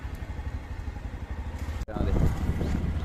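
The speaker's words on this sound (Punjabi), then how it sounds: "ਚੱਲ ਕਰ ਸਟਾਰਟ ਮੋਟਰਸਾਈਕਲ" A motorcycle engine rumbles at idle, then revs up louder after a brief click, running steadily up close.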